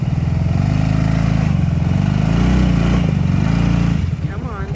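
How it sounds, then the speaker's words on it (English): Four-wheeler ATV engine idling and labouring while being loaded up near a woodland cabin, a loud close throbbing chug with slight rises in pitch, then dropping off near the end. "Kind of struggling to get the four-wheeler loaded back up."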